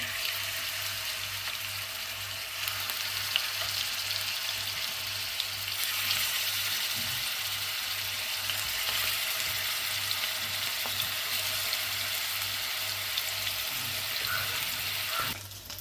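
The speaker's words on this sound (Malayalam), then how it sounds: "അപ്പോൾ നമ്മുടെ വെളിച്ചെണ്ണ ചൂടായി വരുമ്പോഴത്തേക്ക് നമുക്ക് ചിക്കൻ അതിലേക്ക് ഇട്ട് കൊടുക്കാം" Chicken pieces fry in hot coconut oil for a chicken chammanthi, a loud, steady close-up crackle and sizzle that runs without a break, with a faint low hum beneath it.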